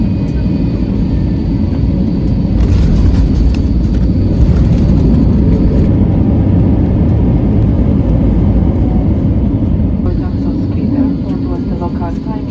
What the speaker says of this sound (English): we came in for landing, which had to be the worst and most like Ryanair landing I've ever seen